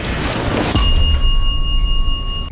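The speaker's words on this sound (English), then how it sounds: "but the bell just went off." A single bell strikes sharply during a ghost hunt in an old building, then rings on with several clear sustained tones that slowly fade over a low background rumble.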